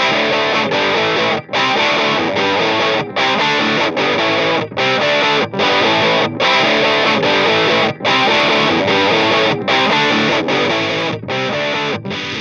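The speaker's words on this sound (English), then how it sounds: "I'll lay down a nasty sort of riff first with a loop, and we'll add a bit more bass to that sound." A heavily distorted electric guitar riff through a boost, drive and distortion pedal plays loud and continuous, chugging in short repeated phrases with brief rhythmic breaks and no voices.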